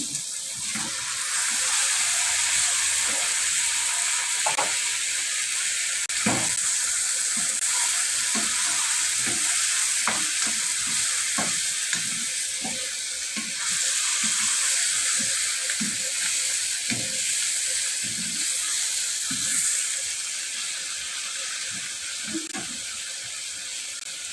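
Marinated chicken and potato fry in a pan with a constant bright sizzle, punctuated by frequent scraping and stirring knocks from a utensil, close and fairly loud throughout.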